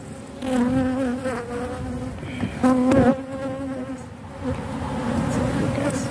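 Honeybees buzz steadily in an open beehive, a close, continuous drone with shifting pitch as bees fly and crawl near the frames.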